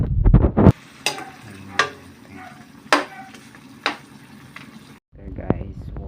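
A spoon stirs pork simmering with tomatoes in a covered-pot stew, giving several distinct scraping strokes over a steady bubbling hiss, close by, with brief voices or handling noise at the start and end.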